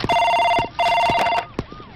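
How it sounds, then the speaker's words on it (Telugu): A telephone rings in a police office in a Telugu comedy film scene: two loud, close electronic ring bursts in quick succession, then a faint tail. "సార్, మీకు ఫోన్"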